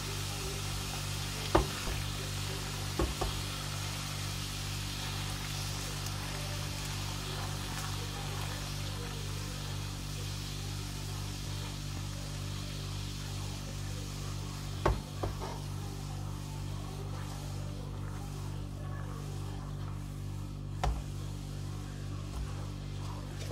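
Sugar melts into caramel in a pan as it is stirred, a low steady sizzle under a constant hum, with a few sharp knocks of the spoon against the pan, no talking.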